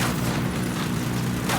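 Gunfire in the video game Ghost Recon Wildlands: a dense, rumbling burst of shots and booms fills the whole moment, loud and continuous without clear gaps.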